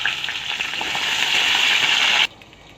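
Rice frying in hot oil with potatoes, bay leaf and cumin, a loud, steady close sizzle that holds for about two seconds and then cuts off abruptly.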